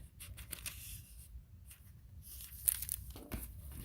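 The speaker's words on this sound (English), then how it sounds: "Here's another piece of the coffee dyed paper." Thin sheets of coffee-dyed paper and onion-skin tracing paper are handled up close, giving soft crinkles, rustles and a few sharper crackles in irregular bursts.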